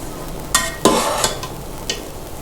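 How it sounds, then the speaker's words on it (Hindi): A spoon stirs cooked pea rice (mutter chawal) in a pot, giving a few scraping, clattering strokes against the metal with soft rustling between them. "अब हम इसको मिक्स करेंगे।"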